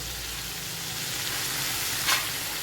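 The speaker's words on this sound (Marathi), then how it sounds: "तर आता पालक घालती आहे गॅस मोठाच आहे" Spinach and onion fry in a pan over high heat, giving a continuous loud sizzle with one brief stir near the end.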